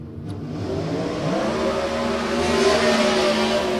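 Drag racing cars idle and rev at a Twilight Nationals eliminations event as they move into stage, a loud, steady engine rumble that swells gradually with a rising tone and no voices.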